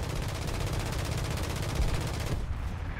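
Rapid machine-gun bursts fire at aircraft in War Thunder, a dense, steady rattle that fills most of the clip before cutting off near the end.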